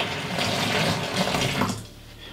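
Filtered water pours steadily into a king cobra's container with a splashy, rushing sound that fades and thins out toward the end, close by.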